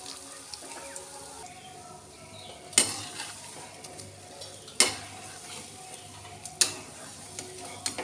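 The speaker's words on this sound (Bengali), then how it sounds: "এগুলো সুজি দিয়ে বানানো সেজন্য একটু ভালো করে লাল করে ভাজতে হবে" Semolina-based palm fritters fry in oil with a soft steady sizzle, broken by three sharp, evenly spaced clacks of a utensil against the pan.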